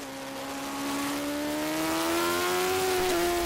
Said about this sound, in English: I took the bike out for a test ride.